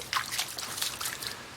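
Small trickling flow of spring water along a backpacking trail, a faint, steady babble and patter of water running and dripping, heard alone and close.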